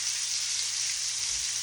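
Asparagus and onions frying in a pan, a steady close hissing sizzle that holds evenly throughout without talk.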